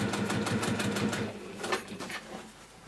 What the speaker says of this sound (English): so that all I have to then do is just top stitch around